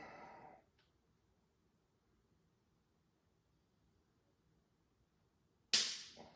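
A single sharp dry-fire pistol click on a Mantis X10 Elite trainer lands after a long silence, crisp and close with a quick decay.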